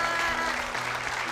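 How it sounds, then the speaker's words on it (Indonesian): Short burst of audience clapping in a TV comedy studio, a dense continuous patter at moderate level, with a faint tone behind it. "kita kasih tepuk tangan dulu untuk Pak"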